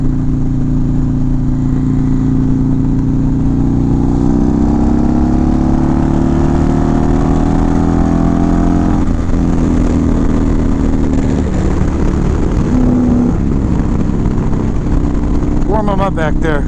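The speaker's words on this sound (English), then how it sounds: "Not the world's fastest bike, but I like the sound." A motorcycle engine revs loudly and close by, its droning tone rising and falling in pitch in several swells, then settling before a rough burst near the end.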